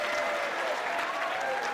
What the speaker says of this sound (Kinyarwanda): Amashyi cyane kuri Muhinde, ladies and gentlemen